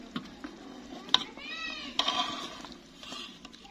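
A spoon stirring beef degi korma in a cooking pot, with soft scraping strokes and a light sizzle under the stir, plus a few brief squeaky and clinking accents.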